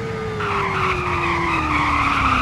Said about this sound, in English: If you slam on the brakes the entire time, you're gonna eventually spin out